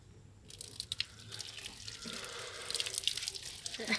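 Running water pours during an outdoor bath in warm drinking water, a bright splashing hiss that starts after a quiet moment and steadily grows louder and fuller, with scattered drips and no talking.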